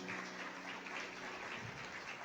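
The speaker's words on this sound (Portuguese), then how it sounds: "Aplauda ao Senhor" A church congregation claps during a Sunday service, a faint, distant patter of applause that stays steady for a couple of seconds with no voices.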